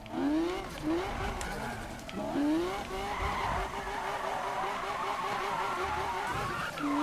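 Need for Speed 2015 car drifting with repeated sweeping tire squeals over a revving engine, loud and close, with a player's voice talking faintly underneath.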